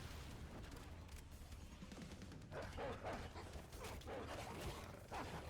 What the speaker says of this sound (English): ignore the amount of howling dogs as you're about to hear